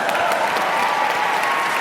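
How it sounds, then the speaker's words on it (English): A live crowd at a quiz show in Salt Lake City gives a short burst of dense, steady applause that fills the whole moment without a break. "I'm applauding for myself."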